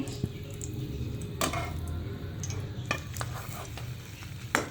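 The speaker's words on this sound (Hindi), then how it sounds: "दूसरी साइड से भी इसे फ्राई करने के लिए अगेन इसे पुश करेंगे हम" A bread, cheese and egg sandwich fries in a pan, giving a steady low sizzle with a few sharp clinks and scrapes of a utensil pressing and turning it. No one speaks.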